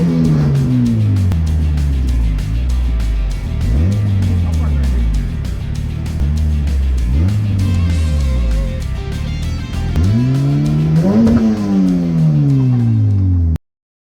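A front-wheel-drive 1965 Ford Mustang with a Honda engine swap revs repeatedly at a car show. The engine pitch climbs and falls in a series of loud, close sweeps, and people talk around it.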